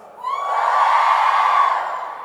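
Women in a church audience raise a loud, sustained joyful shout together, building quickly and holding steady with high-pitched voices for about two seconds.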